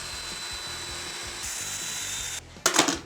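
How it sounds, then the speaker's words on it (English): A power sander runs along the edge of a wooden Stratocaster-style guitar body with a steady whirring drone, then cuts out briefly before a louder scraping rub near the end. "now it's time for edge sanding of our super awesome guitar"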